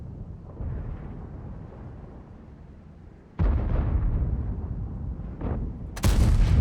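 Tank cannon fire in the World of Tanks video game, with a heavy booming shot landing over a low rumbling engine, followed by a smaller blast and a sharp final crack.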